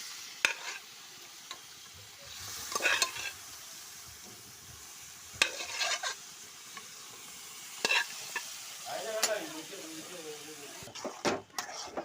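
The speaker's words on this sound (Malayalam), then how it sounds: "നമുക്ക് ബാക്കി ബീഫ് ഇട്ട് കൊടുക്കാം" Beef pieces for Kerala-style beef peralan are stirred in a pan, with a steady low sizzle and several sharp spatula scrapes and clatters spaced through the stretch, close by, and a little background voice.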